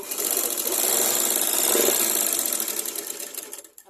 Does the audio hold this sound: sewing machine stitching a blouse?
yes